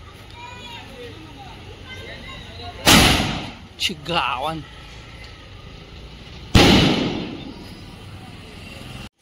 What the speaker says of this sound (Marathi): गाईज फटाका म्हणजे फटाका जेव्हा नादच केला.